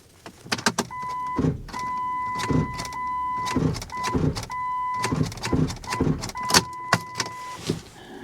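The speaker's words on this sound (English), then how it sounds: "That sounds like a bad starter to me." A Chevy TrailBlazer with a failing starter motor cranks over and over in short repeated bursts, each with a grinding, whining tone, close by and loud, with no speech over it.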